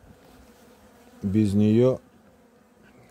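A loud buzzing hum of honey bees swells for under a second, close by, between quieter stretches of room tone.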